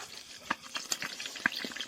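Fat frying in a covered pan in a small kitchen, giving a quiet, steady sizzle broken by scattered sharp pops and splatters.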